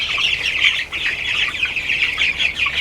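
Several chickens cluck and squawk near a cheap hanging feeder, a steady chatter of overlapping calls at moderate distance with no talking.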